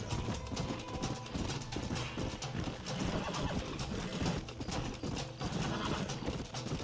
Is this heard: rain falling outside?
no